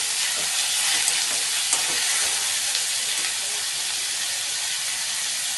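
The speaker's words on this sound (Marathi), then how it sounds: "हे चांगलं टोमॅटो परतून घेण्यासाठी यात मीठ घालूया." Tomatoes with added salt sautéing in a pan while cooking baingan bharta, a steady close sizzle and hiss running throughout with faint stirring scrapes and no talk.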